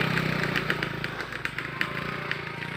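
Motorcycle engine running steadily up close along a rural road to a village, a continuous buzzing drone with rhythmic pulses and no pauses, with faint talk beneath.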